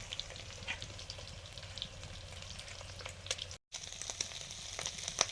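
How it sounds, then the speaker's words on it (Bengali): Fish fries in oil with a constant soft sizzle and scattered crackling pops, fairly quiet and close. "আর কিছু মাছ ভেজে নিচ্ছি"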